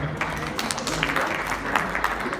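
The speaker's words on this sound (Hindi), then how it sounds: "जनाब मोहम्मद अतीक और रहमान साहब के लिए बहुत सारी तालियां" Audience applause at a Pakistan Cultural Society Eid Millan show, honoring Mohammad Atiq and Rehman: steady, fairly loud clapping from a crowd filling the room, with scattered sharper claps standing out.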